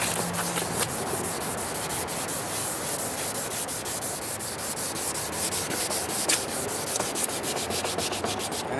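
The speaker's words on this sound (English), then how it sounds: "and just start sanding" Steady, close-up rubbing and scratching of sandpaper on a faded, yellowed plastic headlight lens, continuous with quick back-and-forth strokes.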